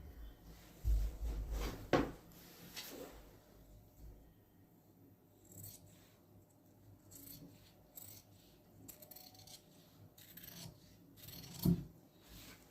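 Scissors snip through fabric while cutting an armhole for a suit, giving quiet, irregular close-up crunches and rasping cuts with soft rustling handling between them.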